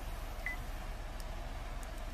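A single short electronic voice-command beep in a 2014 Kia Sportage sounds once early on, faint over a steady low background hum.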